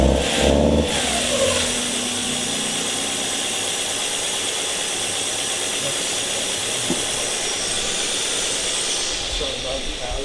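Engine of a Mazda Miata drift car that bogs and won't rev past about 2,000 rpm, running steadily near and loud with a brief blip, while people talk over it.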